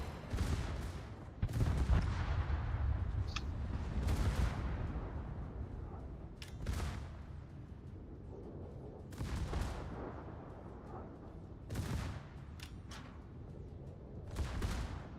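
Warship guns fire in the World of Warships naval game, several heavy booming salvos spaced across the span with rumbling low-end tails, loud and close, with no talk over them.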